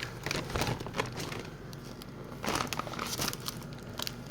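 Soft plastic candy wrappers crinkling in short bursts, close and quiet, with pauses between handfuls of rustling.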